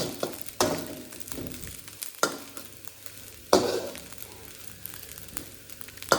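Nasi goreng being stir-fried in a pan, with a low sizzle under repeated sharp scrapes and clanks of a spatula at irregular intervals, close by and without talk.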